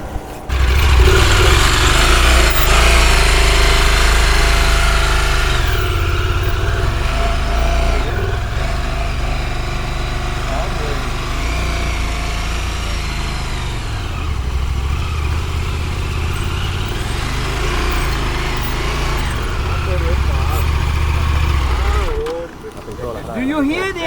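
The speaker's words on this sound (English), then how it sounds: "Do you hear the engine?" An adventure motorcycle engine runs steadily during off-road riding, rising and falling in revs, loud and close, with a voice talking over it at times.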